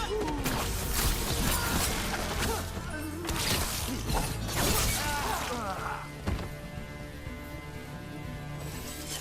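Eluvian mirrors shatter in Dragon Age: The Veilguard, a series of loud crashing and breaking impacts layered with clanking mechanisms and swirling magical tones, continuing for several seconds.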